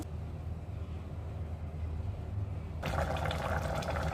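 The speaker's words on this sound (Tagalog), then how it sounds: "lagyan natin ng kunting tubig, mga 1 baso" Quiet background hum, then about a glass of water suddenly pours into a pot of vegetable soup, a steady bright splashing stream that continues to the end.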